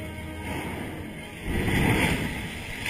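A ship launched from a shipyard slams into the water. A rushing, roaring surge of broadband noise swells over a steady background rumble and holds loud to the end.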